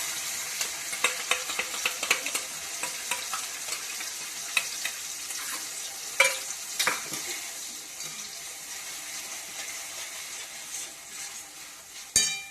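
Poppy seeds sizzle steadily in a hot kadai, with frequent light clicks and scrapes as a spatula stirs them. A couple of sharper knocks stand out, and no one speaks.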